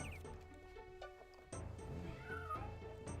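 Cats meowing in the video game Daggerfall, a few short cries over a steady music bed that swells louder halfway through.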